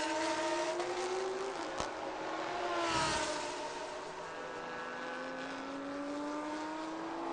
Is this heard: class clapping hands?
no